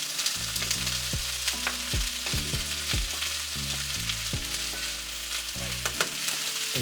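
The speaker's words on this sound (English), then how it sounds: "just listening to the food cook and the sounds of the kitchen is like so satisfying" Chickpea curry frying in a pan, with a steady sizzle and intermittent stirring clatters running throughout, close and moderately loud, no voices.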